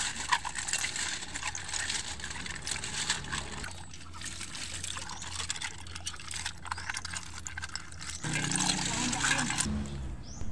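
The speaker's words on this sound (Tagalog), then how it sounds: "Ang una nating gagawin ay hugasan ng mga ito." Freshly gathered seashells washed in water, a continuous trickling and sloshing wash that shifts in texture a few times, close and moderately loud, with a voice talking over part of it.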